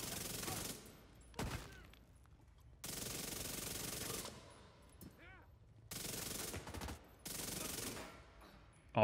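Chatterbox submachine gun firing in The Division 2, several sustained full-auto bursts of a few seconds each separated by brief pauses, loud and close, with short gaps of game ambience between bursts.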